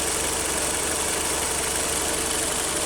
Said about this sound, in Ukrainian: Можете послухати, як працює двигун.